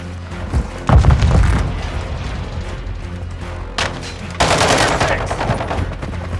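Frag grenade blasts in Call of Duty: Modern Warfare II multiplayer on Mercado Las Almas: two heavy booms, near the start and past the middle, burst out of rapid, continuous gunfire that rattles steadily throughout.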